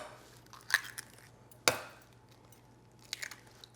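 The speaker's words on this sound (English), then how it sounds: "We're gonna add 2 large eggs." Two large eggs cracked into a bowl, heard as a couple of sharp, close taps and cracks with a soft splat and small follow-up sounds, over a low steady hum in a quiet kitchen.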